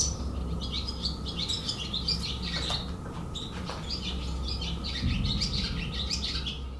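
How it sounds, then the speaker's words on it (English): Birds chatter and chirp steadily in a dense, overlapping chorus, with bright repeated calls over a constant low background hum and no talk. "below the bird chatter"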